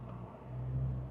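Low, steady engine and exhaust rumble from a car with a valved exhaust cruising, swelling slightly midway with a droning hum, no voices.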